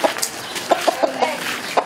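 A chicken clucks in short, sharp, repeated bursts at close range as a betting fight between chickens begins and it runs off instead of fighting.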